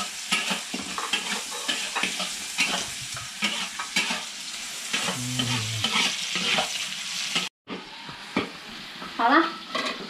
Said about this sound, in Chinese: 这瘦肉也放进来一起炒